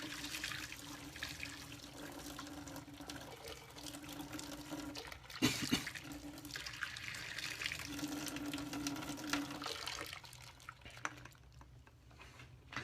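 Hot water poured out of a pot after boiling hard-boiled eggs, a steady close splashing pour that runs for several seconds, swells briefly midway, then thins to trickles and quiet.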